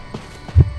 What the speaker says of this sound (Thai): รอบนี้เสียงหัวใจเหมือนจะ